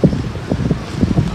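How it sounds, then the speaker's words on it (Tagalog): Strong wind buffeting the microphone outdoors while a kite is flown, a steady low rumbling roar with uneven gusty thumps, loud and close with no voices. "Lakas sa hangin."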